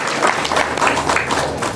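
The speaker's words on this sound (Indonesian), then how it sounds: "Tepuk tangan dulu untuk Bapak Ibu." An audience of adults at a business program session claps together in a brisk burst of applause, fairly loud and close, with a few voices mixed in.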